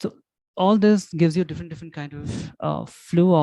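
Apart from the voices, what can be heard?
No distinct noise like a dog, phone or traffic.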